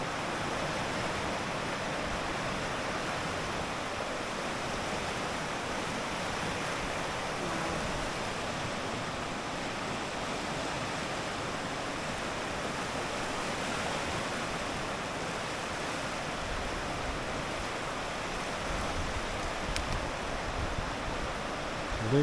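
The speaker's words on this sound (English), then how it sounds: "I think this is the fastest water in the world" Fast-flowing seawater rushes in a steady, broadband wash of noise, continuous and moderately loud with no voices over it.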